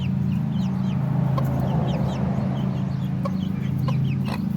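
Backyard chickens, including silkies, cluck and chirp in a steady murmur close by over a constant low hum, with scattered sharper calls rising above it and no talking.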